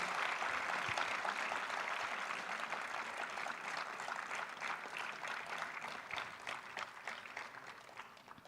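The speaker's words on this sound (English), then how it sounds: "let's give them a big round of applause" Continuous clapping from a large audience at an innovation competition final, dense and steady, heard from a little distance and gradually thinning out.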